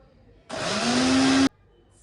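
A mixer grinder blending tomatoes with water for pani puri water: a loud electric motor whir that starts abruptly, rises steadily in pitch for about a second, then cuts off sharply.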